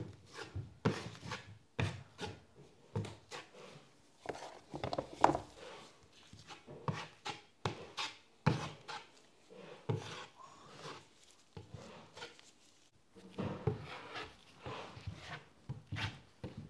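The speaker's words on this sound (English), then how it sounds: "enjoy the beautiful sounds of plastering, mudding, whatever you wanna call it, the sheetrock holes" Drywall mudding and taping to fill holes in sheetrock: soft rhythmic scrapes and wet smears of a knife spreading plaster compound, close and quiet, with short pauses between strokes.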